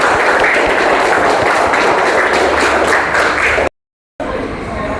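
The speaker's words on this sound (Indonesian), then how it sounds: "tepuk tangan untuk Fikri" Classroom applause for a student named Fikri during a sixth-grade religious studies lesson, a steady wash of many hands clapping that runs loud for several seconds, cuts out briefly, then resumes faintly.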